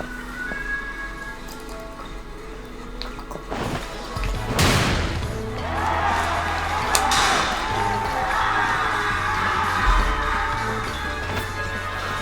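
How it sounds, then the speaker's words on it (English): A game crowd in Pokemon Sword cheers for champion Leon in Wedgehurst, a steady roar of voices with a crashing burst midway and music running underneath throughout. "everyone's cheering for him as he does his pose"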